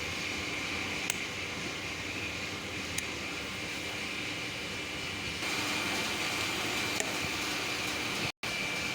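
A circulation pump runs in a building plant room, giving a steady mechanical hum with faint tonal whine, a few small clicks, a slight rise in level midway and a brief dropout near the end.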